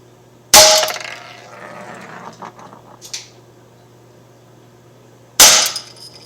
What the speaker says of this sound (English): let me just take this thing off safety. Alright, here's shot 1.